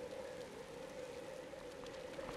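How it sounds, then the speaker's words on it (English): Rain falls steadily in the video game Raw Danger!, a soft continuous hiss with a faint tonal hum beneath it and no voices. "Oh, because it's raining."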